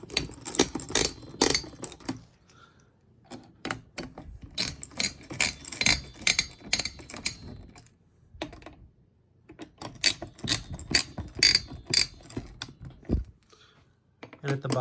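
Screws in a PC case crank down with rapid bursts of dry ratcheting clicks. The bursts come in several clusters broken by short pauses, close and fairly loud.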